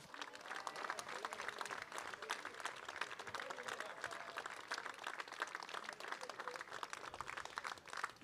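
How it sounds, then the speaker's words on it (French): Spectators applaud at the finish line of the Urban Trail Chaumont race as a team of three completes the course, continuous faint clapping from a scattered outdoor crowd. "Équipe de 3 qui termine sous les applaudissements du public."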